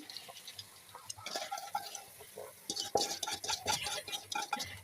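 Polao rice grains tipped into a cooking pot over spiced oil, producing light irregular ticking and rattling patters that grow denser and louder partway through, close and fairly soft.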